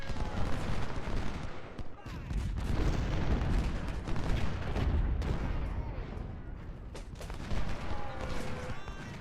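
Artillery and massed rifle fire roll across a Ultimate General: Civil War battlefield: dense, continuous booms and crackling volleys, loud and overlapping with no pause, some sharp reports standing out over the rumble.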